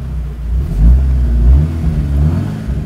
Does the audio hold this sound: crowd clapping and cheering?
no